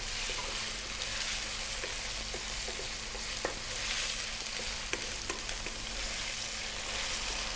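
Mutton curry sizzles steadily in a pan while being stirred, a continuous frying hiss broken by occasional scraping clicks of the spoon, close and alone without talk.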